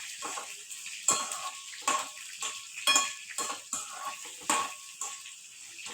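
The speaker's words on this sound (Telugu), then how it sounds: "వేగుతున్న దాంట్లో మనం ఉల్లిపాయలు వేసి వేయించుకోవాలి" Onions fry in oil in a pan for a ridge gourd onion curry, with a soft sizzle beneath repeated sharp metallic clinks of stirring against the pan.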